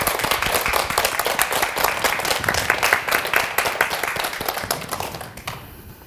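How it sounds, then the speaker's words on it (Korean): A studio audience on a Korean morning talk show claps to welcome a guest speaker, dense continuous applause that stays loud and then thins out and stops near the end. "윤용희 작가의 강연 큰 박수로 함께 해주겠습니다"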